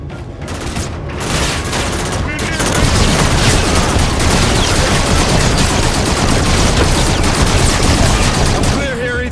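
Heavy, continuous gunfire aboard a ship in Call of Duty: Infinite Warfare, sustained automatic bursts and booms filling the whole stretch at high volume, with muffled voices partly buried in the din.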